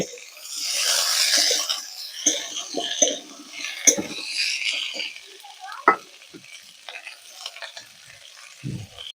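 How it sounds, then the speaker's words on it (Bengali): Potato and cauliflower sautéing in a pan give a soft, steady sizzle with intermittent stirring scrapes and light clinks, loudest at the start and easing later. "কাঁকড়াটাও ভাজলাম, আলু কপিটা কষছি।"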